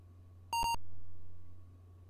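The 1980 Apple II game Crown of Arthain gives one short, sharp electronic beep made of quick buzzy pulses. A steady low hum sits beneath it, and quiet follows.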